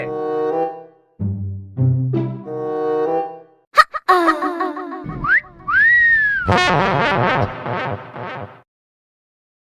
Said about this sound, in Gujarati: કોને મારી સીટી